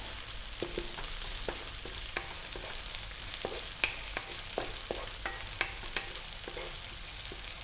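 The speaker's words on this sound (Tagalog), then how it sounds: "Gisahin ko lang siya sandali." Onion sautés in a pan with garlic and ginger, a steady close sizzle of frying with frequent scraping taps and clicks of a spatula stirring, continuous throughout with no voices.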